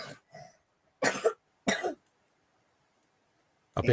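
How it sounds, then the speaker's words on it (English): A child's few short coughs and throat-clearing sounds, separated by silent pauses, close and clear. "he got a bit of a cough on him"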